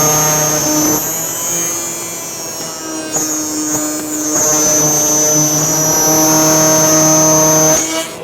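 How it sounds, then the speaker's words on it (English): A router cuts a 1/4 inch high centered groove in a walnut rail for a bathroom vanity, a loud steady motor whine with a humming drone that shifts slightly in pitch as the bit works through the wood. "now we're ready to route"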